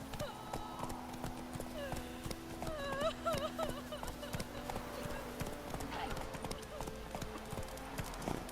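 Horse hooves clip-clopping at a steady trot in the video game The Witcher 3, close and rhythmic, with a brief whinny and background game music and voices underneath.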